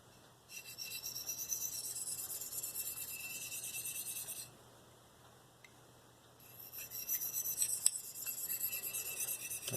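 A Marttiini Lynx knife is drawn across the finest side of a sharpening stone in quick refining passes. The steady raspy scraping runs for a few seconds, pauses, then resumes close and fairly quiet.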